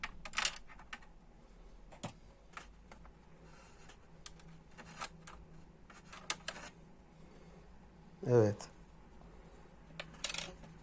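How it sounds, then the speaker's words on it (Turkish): A screwdriver pries the BIOS battery out of an HP 530 laptop, giving sparse small clicks and taps and one short metallic scrape, close and quiet under intermittent speech. "Tornavida yardımıyla pili yerinden çıkarıyoruz"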